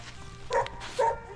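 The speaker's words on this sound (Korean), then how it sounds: "강아지 오랜만이다." A dog on an apple farm where chickens and geese roam free gives two short, sharp barks in quick succession, at moderate distance, over quiet background noise.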